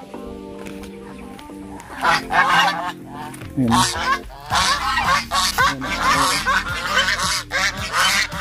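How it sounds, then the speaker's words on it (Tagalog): Loud, repeated gobbling calls from a group of turkeys in a backyard, bursting in overlapping waves, with a brief voice and background hum. "Ang ingay ng mga pabo."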